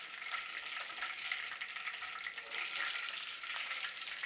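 Hot tempering oil with mustard seeds, garlic and curry leaves is poured over a homemade mixed vegetable pickle and crackles in a bright, steady sizzle that stays close and fairly loud with small pops throughout, with no voices.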